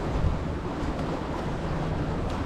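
Strong wind buffets the microphone at a shoreline crabbing spot, with a steady roar of surf and rushing air throughout and no pauses, loud and close.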